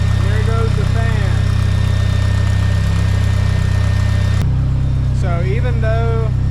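A turbo drift car engine idles loudly and steadily while a radiator cooling fan kicks on midway, adding a broad whooshing hum; a voice talks briefly over the running engine.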